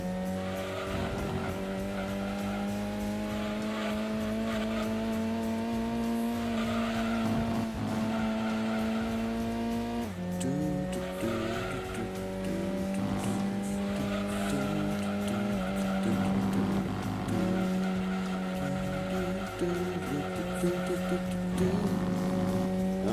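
A race car in Gran Turismo 2 at Apricot Hill, the engine droning loud and constant with pitch shifts through gear changes while the front tires squeal and skid in understeer.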